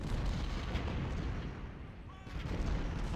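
Cannon fire from Civil War artillery in a strategy video game, dense low rumbling booms rolling continuously under a faint background, fairly quiet with overlapping blasts.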